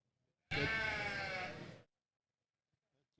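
A single ewe lets out one loud, close bleat lasting just over a second, then quiet follows, with a faint start of another sound at the end.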